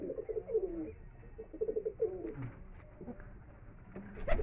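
Kalpora Kaldom and Madrasi pigeons coo in repeated soft, throaty bursts close by, with short pauses between phrases and a few light rustles near the end.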